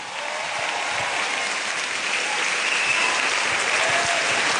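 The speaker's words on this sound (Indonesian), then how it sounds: "Tepuk tangan buat Ari Kriting." A crowd claps for comedian Arie Kriting at a stand-up comedy show, a dense, steady wash of applause that swells slightly and continues without a break at even loudness.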